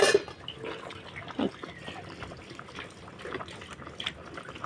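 Water runs from a tap for hand washing in a home kitchen while beef and greens are cooked, a steady trickle with a few splashes and drips lasting throughout, moderately quiet.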